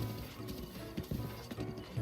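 Horse hooves clip-clop in the Breath of the Wild video game, a steady, fairly quiet rhythmic trot of hollow knocks over a low background hum.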